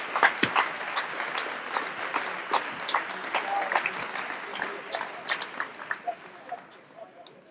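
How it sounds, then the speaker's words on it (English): Scattered applause from an outdoor crowd at a ribbon cutting for a southern-area aquatics and recreation complex, with loose individual claps that thin out and fade toward the end. "Give Delegate Proctor his memory, his legacy, a big, rousing round of applause"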